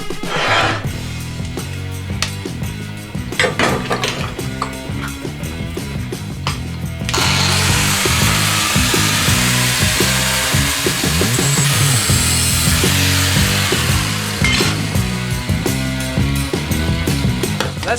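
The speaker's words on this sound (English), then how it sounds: "I'm going to grind this bar exactly to size" A power grinder cuts a metal barbell bar to size for a home gym, a loud harsh continuous grinding that grows fuller and more intense partway through and keeps going to the end.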